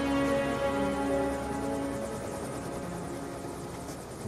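Helicopter in the Call of Duty Black Ops 2 video game, a steady rotor thrum and engine whine holding loud and close, fading slightly over the few seconds, with no talk.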